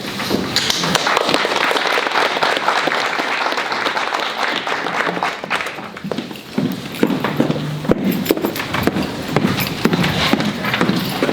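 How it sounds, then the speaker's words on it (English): Loud, sustained applause from a large crowd at an awards breakfast, dense clapping with a few sharper claps and cheers, continuing throughout without speech. "please join me in another round of applause"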